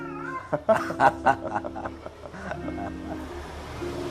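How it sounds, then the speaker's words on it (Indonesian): Cats caterwaul while mating in a village, several rising and wavering yowls close by over a steady outdoor background. "Ya inilah suasana kampung kucing kawin."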